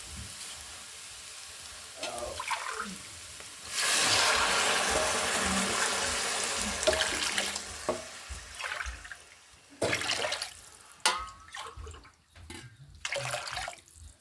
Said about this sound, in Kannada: ಇವಾಗ 5 ಕಪ್ಪಷ್ಟು ನೀರು ಹಾಕಿದ್ದೀನಿ